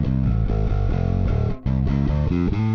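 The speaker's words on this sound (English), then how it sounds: "Let's try the clawthorn drive." Bass guitar played through the Clawthorn drive effect on a Line 6 HX Stomp, a steady run of overdriven notes with a thick, gritty tone and one brief gap midway.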